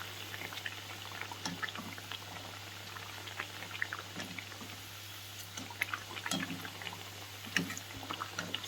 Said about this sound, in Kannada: ಸೊ ಡಾರ್ಕ್ ಬ್ರೌನ್ ಆಗೋವರೆಗೂ ನಾವು ಬೇಯಿಸ್ಕೊಳ್ಳೋಣ